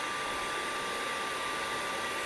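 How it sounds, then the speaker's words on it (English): A Fanttik Textra 11 Apex cordless carpet cleaner sucking up cleaning solution while rinsing its brush and hose, a steady loud broadband suction roar with a whining motor tone, continuous and close. "The solution is getting sucked in, and it's cleaning the brush and the hose."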